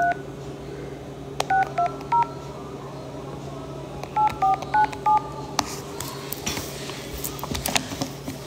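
A phone keypad is pressed to dial a number, giving two quick runs of short clear beeping tones over a low background hum, followed by a burst of rustling handling noise.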